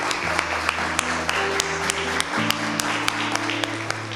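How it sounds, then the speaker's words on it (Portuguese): Congregation clapping together in a church service, steady rhythmic applause from many people over sustained organ or keyboard chords that shift midway. "Aplauda o Senhor"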